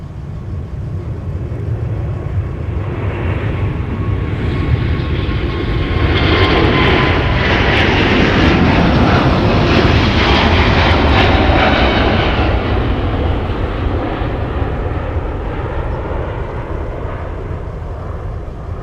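A regional jet, Key Line 5111, departs MSP airport in winter with a loud, rushing engine roar that swells to a broad peak mid-way and slowly recedes into the distance.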